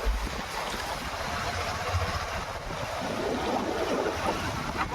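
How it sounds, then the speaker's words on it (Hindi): Water cascading down Devkund waterfall, a steady broadband roar of falling water, loud and continuous throughout with no voices. "देवकुंड रु पानी झरछि तळे।"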